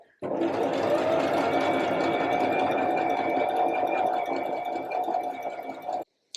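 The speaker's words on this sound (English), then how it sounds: "I've got my machine set to the middle size of the zigzag stitch. I'm just going to slowly follow this around." A sewing machine runs a zigzag stitch around a jumpsuit neckline seam, one continuous close whirring hum for about six seconds before stopping abruptly.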